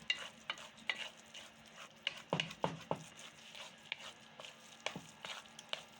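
Pumpkin halwa with coconut being stirred and roasted in a pan, a rapid series of scraping and tapping spoon strokes over a faint frying hiss, close and steady.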